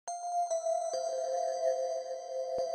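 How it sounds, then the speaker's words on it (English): Synthesized bell tones ring out in a few soft, sustained notes, each one shimmering and lingering against a quiet background. "There are these bells."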